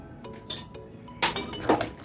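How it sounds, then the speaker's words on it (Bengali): Metal bowl and cooking pan clinking and knocking in a home kitchen while the bowl of poppy seed, mustard and chilli paste is rinsed into a pan of drumstick curry, several sharp close clatters. "পাত্রটা ধুয়ে পরিমাণ মতন একটু জল দিয়ে দিচ্ছি"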